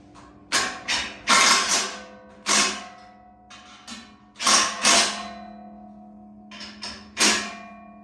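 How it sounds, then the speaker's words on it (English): A ratchet with a 9/16 socket snugs bolts while assembling a firewood bagger, giving irregular bursts of clicking and creaking mechanical strokes separated by short pauses, fairly close and without voices. "we're going to switch over to our 9/16 socket, and we don't want to over tighten these bolts here either"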